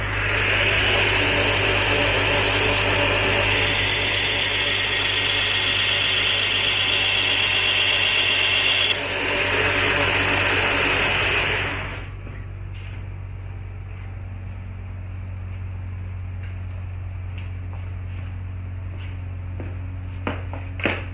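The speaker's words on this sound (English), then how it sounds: "I'm just going to grind to that center line." A belt grinder grinds the bevel of a clipped point knife blade on a 100 grit belt, a loud steady whine with grinding hiss for about twelve seconds before cutting out to a low motor hum and faint clicks.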